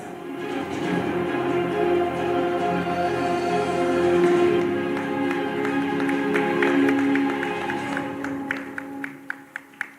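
An audience applauds at the NUA Odisha Global Summit on Growth & Employment in Bhubaneswar. The clapping is a steady, full wash for several seconds, then thins out to a few scattered, separate claps at the end.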